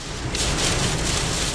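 A heavy thunderstorm downpour over Iowa. Dense, loud, steady rain hiss fills the short stretch without pause.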